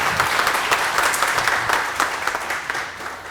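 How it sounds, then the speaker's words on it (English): Lively audience applause at a World Environment Day panel discussion, a brisk dense clatter of many hands that holds steady for a few seconds, then begins to taper off. "Can we have a round of applause for that one?"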